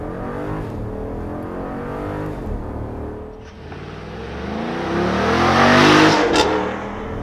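A 2022 Jeep Grand Wagoneer with an 8-speed automatic pulls away at full throttle, engine roar climbing through a gear change and swelling louder and brighter toward the end, heard from inside the cabin.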